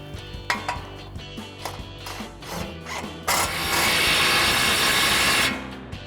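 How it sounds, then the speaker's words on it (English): A wrench works suspension bolts on a Ford F-150 during a Roush coil-over kit install, giving a series of sharp metallic clicks and knocks, followed by a steadier, louder mechanical whir near the end. "Get our wrench onto our bolt heads."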